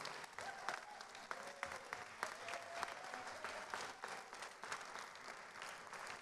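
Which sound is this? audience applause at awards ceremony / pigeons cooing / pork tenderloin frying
audience applause at awards ceremony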